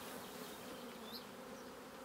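Honey bees hum in a steady, soft drone around hives in an apiary where queen cells are being raised, the buzzing continuous and even with no other sounds over it.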